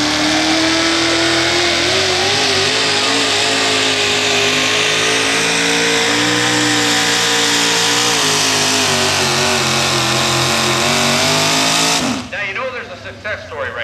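A modified 640 cubic inch Chevrolet engine in a Chevy-bodied 4x4 truck roars at an NTPA truck pull at Fort Recovery. It stays loud and close for about twelve seconds with shifting revs, then cuts off abruptly.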